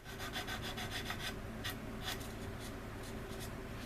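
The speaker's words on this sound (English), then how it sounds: "You gotta file this down right here, fellas. And what it does, it just removes that seam." A file rasps along a seam on an Anigrand C-124 Globemaster plastic model aircraft kit in rapid, faint back-and-forth strokes, with a low background hum and no talking.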